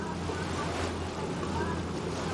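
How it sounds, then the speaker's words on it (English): Oar blades of a rowing eight wash through the river during a Henley race, a broad continuous rushing swish over steady low rumble, with a brief surge of water noise midway. "You can just hear the wash coming off the blades if you listen in"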